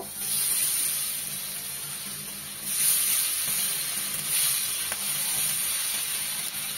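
Oil-marinated chicken boti kebab skewers sizzle on the heat with a steady, bright hiss that swells in a few soft bursts, moderately loud and close, with no voices.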